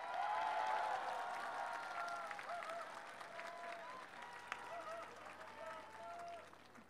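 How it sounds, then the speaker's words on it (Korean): A crowd at a Korean farewell gathering for a former president and first lady claps warmly in sustained applause, steady and fairly distant, with a speaker's voice over it. "영부인께 다시 한번 뜨거운 박수 부탁드리겠습니다."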